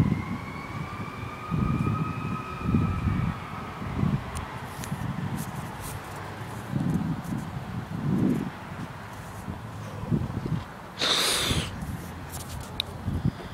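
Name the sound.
fire engine siren at a car crash scene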